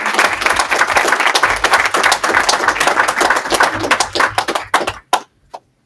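Dense audience applause at a public presentation in Anchorage, loud and sustained for about four seconds before thinning into a few scattered claps and stopping.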